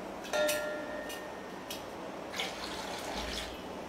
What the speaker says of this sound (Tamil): ஸோ களி செய்கிறதுக்கு இந்த மாதிரி கப்பில் 2 கப் தண்ணி ஊற்றிக்கிறேன்